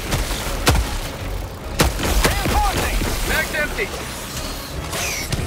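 The Slugger shotgun fires in Helldivers 2, a few heavy booming shots spaced about a second apart, each with a sharp crack and rumbling tail, amid clattering action noise and battle chatter.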